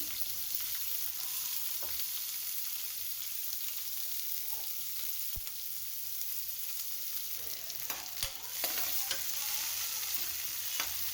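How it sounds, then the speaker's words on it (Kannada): Chopped onion and curry leaves frying in oil with mustard seeds, a steady soft sizzle with occasional stirring clinks, close and continuous throughout, no talking. "ನೆಕ್ಸ್ಟು ಕರಿಬೇವಿನ ಸೊಪ್ಪು ಹಾಕ್ಕೊಂಡು ಆಮೇಲೆ ಕಟ್ ಮಾಡಿರುವಂತಹ ಒಂದು ಈರುಳ್ಳಿ ಎಲ್ಲ ಹಾಕ್ಕೊಂಡು ಫ್ರೈ ಮಾಡ್ಕೊತೀನಿ"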